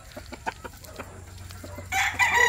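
Chickens on day 17 of a mixed-feed diet cluck in short, close repeated bursts, then break into a louder, sustained crowing call near the end.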